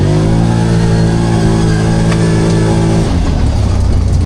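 A 2024 CFMOTO ZForce 800 Trail side-by-side engine in sport mode revs loud and close, holding a steady harmonic drone that shifts pitch near the three-second mark before cutting off.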